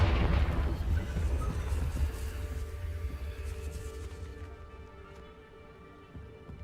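A Confringo blasting spell explodes in Hogwarts Legacy with a heavy deep boom up front, then a long rumbling decay that gradually fades out.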